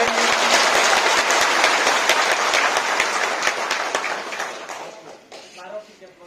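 An audience claps for Nupur Debbarma at a first foundation day gathering, a dense burst of steady applause that fades out over the last couple of seconds.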